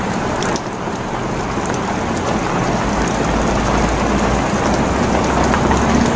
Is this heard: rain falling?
yes